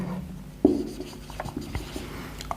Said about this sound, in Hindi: इसको मैं मिटा रहा हूं